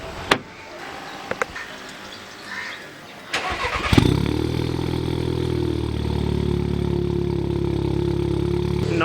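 A car with a turbo-back exhaust starts after a few faint clicks and thumps, then settles into a loud, steady, rumbling idle and pulls away. The sound is close and continuous, with no one talking.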